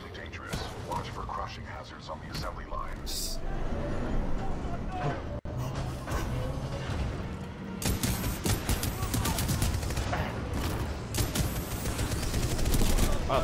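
Gunfire from a gun in the sci-fi shooter Titanfall 2, with repeated sharp shots and bursts throughout, close and loud amid constant game noise and speech.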